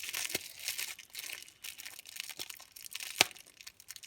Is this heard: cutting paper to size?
yes